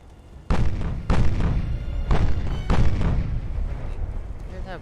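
Four heavy booming salvos from 6-inch naval guns in the Ultimate Admiral Dreadnoughts naval warfare game, evenly spaced at roughly one-second intervals, each a loud broadband thud with a rumbling decay.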